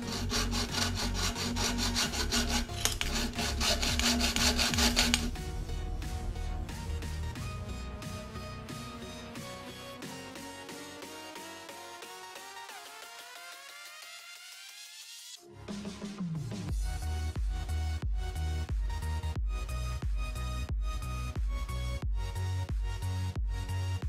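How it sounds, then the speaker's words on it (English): A hacksaw cuts through the cold air intake pipe of a 2008 Honda Civic, close up with steady back-and-forth strokes. It pauses briefly partway through, then resumes sawing. No one speaks. "got the hacksaw. We're just gonna lop through it real quick"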